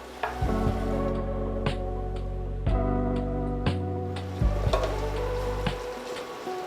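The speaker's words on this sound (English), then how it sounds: "And now we're gonna add our butter. And we're gonna stir that in and let that melt." Butter melting into browned sausage in a pan for Southern sausage gravy: a soft sizzle with repeated scraping and stirring knocks, close and fairly loud, no voices.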